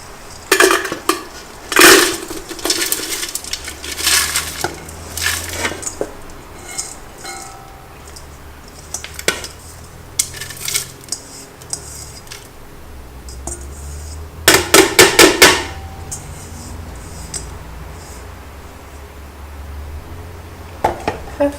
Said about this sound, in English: we're going to get our melting pot and just put it straight in.